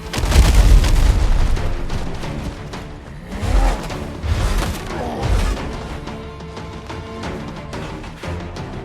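Bomb blasts in the pirate-themed video game Windrose, several heavy booming explosions with crashing debris, loudest at the start and again in bursts around the middle, set within a dense game soundtrack with no speech.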